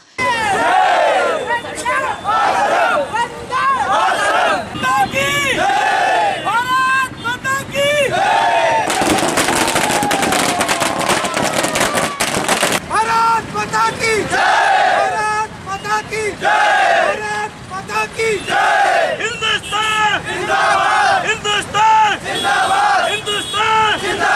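A crowd of ex-servicemen cheers with flags at a chowk, with loud overlapping shouting and chanting throughout and a dense burst of crackling firecrackers in the middle, close and continuous.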